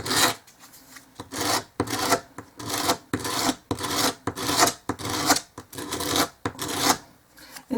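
Repeated rasping strokes of sandpaper or a file against a small wooden dollhouse miniature piece, about a dozen steady back-and-forth passes in close, even rhythm, each stroke a loud broadband scrape with short pauses between.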